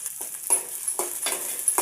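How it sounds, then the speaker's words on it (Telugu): Peas stirred into fried onions in hot oil give a quiet sizzle broken by rhythmic scraping strokes of a spoon about every half second, without talk. "ఉల్లిగడ్డలు గోలినాక బఠానీలు వేసుకోవాలి"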